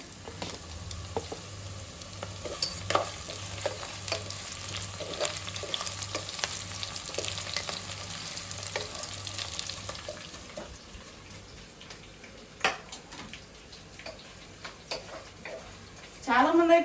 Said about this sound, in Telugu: ఉల్లిగడ్డ కరివేపాకు వేగింది ఇందులో గరం మసాలా వేస్తున్నాం